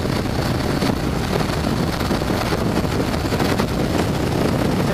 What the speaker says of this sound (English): Got a strong headwind.